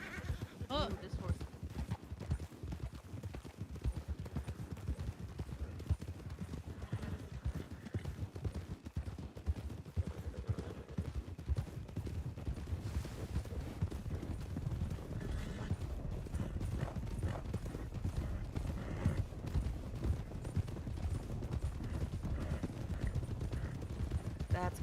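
Horse hooves clip-clop in a steady rhythm throughout, moderately close, while people talk over the hoofbeats.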